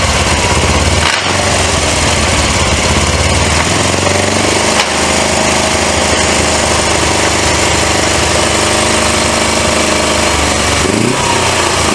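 A rare 1980s Suzuki GS 450A automatic motorcycle with a suspect transmission runs at close range, its engine loud and continuous, with revs that rise and fall and a brief pause in the sound early on.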